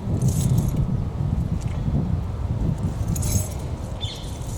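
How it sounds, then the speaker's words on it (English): Keys on a cluttered key ring jangle and rattle close by in short metallic clinks, with handling rumble and a brief sharper chink toward the end. "Oh, so much rubbish on my key rings."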